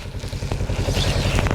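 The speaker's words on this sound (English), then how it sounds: "you're gonna hear a really nice engine sound" Motorcycle engine running steadily at close range, a low throbbing rumble with some rattling clatter, heard alone without talk.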